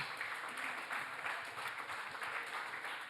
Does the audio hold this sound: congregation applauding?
yes